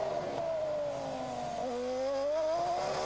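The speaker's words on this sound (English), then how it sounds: "You can hear the traction control working on the engine." A Toyota Formula 1 engine at a Canadian Grand Prix hairpin revs with a high, slightly fluctuating whine as traction control works, its pitch dipping then climbing, heard at a distance without talk.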